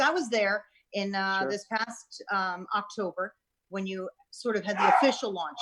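A dog barks and yips in the background of a live talk show, its sounds partly buried under steady conversation between speakers.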